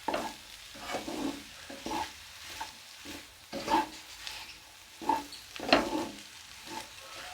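Potatoes, carrots and eggs frying in a pan, giving a soft steady sizzle with intermittent scraping and stirring strokes of a spatula, fairly close and moderately quiet, with no talking.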